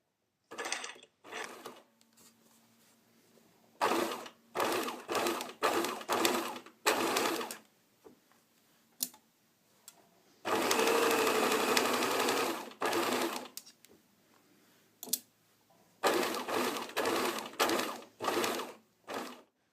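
A domestic sewing machine stitches a bodice neckline seam in repeated short bursts with pauses between them. One longer continuous run sits near the middle, and all of it is close and moderately loud.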